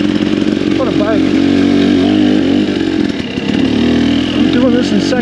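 A 300 dirt bike ridden in second gear along a stick-strewn single track trail at Shake Creek near Baumgartner, Idaho, its engine droning loud and close throughout with small rises and dips in pitch.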